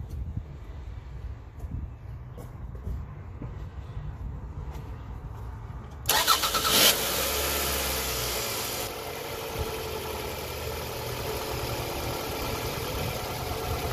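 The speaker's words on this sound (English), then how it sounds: "Let me start the engine." A car engine cranks and fires up during a battery cranking test with a TOPDON BT600 tester. A quiet, low rumble gives way to a sudden loud start, then the engine settles into a steady, close idle with no talk.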